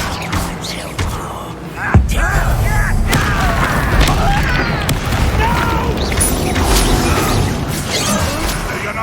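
Confringo spell blast in the video game Hogwarts Legacy, a sudden loud burst followed by a sustained rumbling, crackling roar that stays strong to the end.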